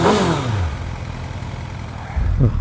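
A Kawasaki ZX6E motorcycle engine with a Yoshimura carbon exhaust starts up with a falling whine, then runs at a loud, rumbling idle close by, ending on a brief rev.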